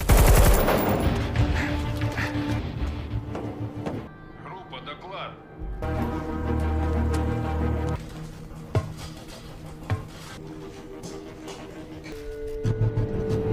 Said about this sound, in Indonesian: Ketika Kapten menembakkan senapan mesinnya